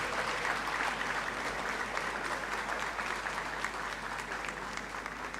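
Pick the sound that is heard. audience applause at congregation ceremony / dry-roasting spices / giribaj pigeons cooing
audience applause at congregation ceremony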